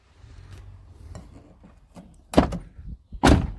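The sliding door of a VW T5 van opening after a handle repair: faint rubbing and clicks, then a loud latch clunk and a heavy thud as the door rolls and slides, close by.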